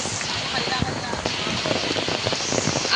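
Steady rain patters on a surface, a dense crackling hiss with scattered louder drops, and faint voices murmur underneath.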